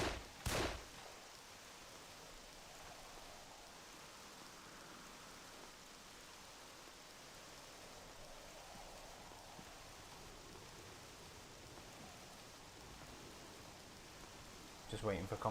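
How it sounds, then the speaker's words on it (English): Steady rain and wind ambience from the Doom total conversion game Aliens Eradication, a soft, even wash of falling rain held at a constant low level, broken by brief loud bursts at the start and end. "Can you hear rain and wind?"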